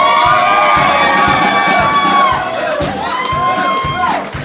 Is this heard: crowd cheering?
yes